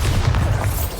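Bombarda explosion spell going off in the video game Hogwarts Legacy, a brief dense booming blast with rumbling low end filling the moment, loud and continuous with no pause.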